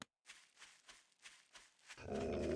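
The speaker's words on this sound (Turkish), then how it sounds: "Köpek var burada." A dog in the 7 Days to Die video game growls in a rough series of about six short, rhythmic snarls, followed by a louder burst of noise at the end.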